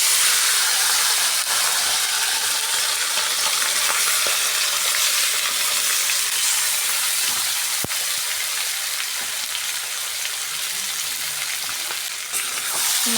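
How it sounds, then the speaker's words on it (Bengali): Marinated chicken frying in hot oil with a bay leaf gives a loud, steady, close sizzle and hiss throughout, with faint occasional stirring knocks. "দেখো, তেলটা গরম হয়ে গেছে, এবার মাখা মাংসগুলো দিয়ে দেব।"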